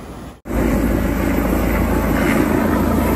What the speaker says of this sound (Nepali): हेलिकप्टरले एयर रेस्क्यु गरिरहेछ आजको.